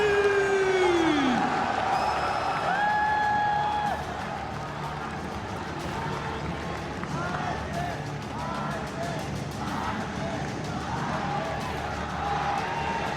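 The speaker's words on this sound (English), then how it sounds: "Encore une fois, un tonnerre d'applaudissements pour les RNG" A large esports crowd at the 2018 MSI semifinal cheers and claps for team RNG, a dense continuous roar with whoops, while an announcer talks over it.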